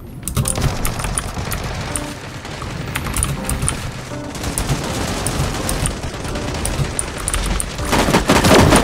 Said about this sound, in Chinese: 而且好多枪声哦